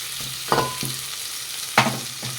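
Tomatoes sizzle steadily in a pan for egg pulao while a spoon stirs them, its scrapes and clanks rising now and then above the constant close frying hiss. No voices are heard.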